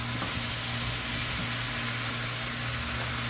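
Asparagus frying with seasoning in a pan makes a steady, even sizzle under a low hum, with no one talking over it.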